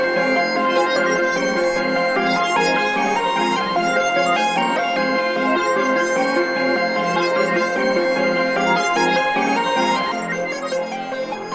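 A layered synth melody built in FL Studio with EQ cutting the low end, dense sustained chords and bright plucked notes looping steadily and loudly, with no voice over it.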